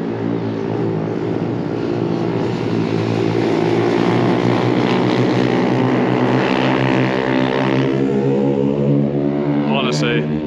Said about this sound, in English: they're racing the pit bikes at the moment